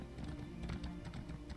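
Horse hooves in the video game Elder Scrolls Online, a quick steady clip-clop of a mount at a trot, close but quiet against a low game ambience.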